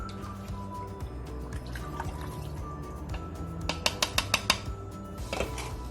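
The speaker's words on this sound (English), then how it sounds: "so let's give that a good stir" Keto broccoli cheddar soup is stirred in a pot, with soft liquid slosh under a quick run of clear metallic clinks and taps from the spoon against the pot, close and without talk.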